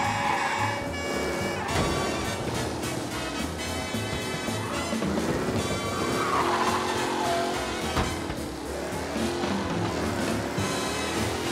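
A car in the video game Mafia: Definitive Edition races at over 100 km/h, its engine roaring continuously with tire squeals and skids. Game music and other game effects play along, and nobody speaks.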